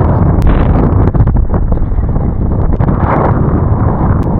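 Strong swirling wind at sea buffets the microphone with a loud, continuous low roar and rushing gusts, steady throughout with no voices.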